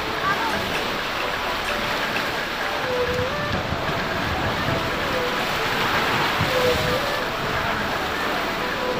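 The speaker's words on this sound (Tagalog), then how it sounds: "Kasi humahampas yung alon dyan." Sea waves crash against a rocky shore at Clear Water Bay, Hong Kong, where mussels are gathered, a steady loud wash of surf with a voice speaking over it throughout.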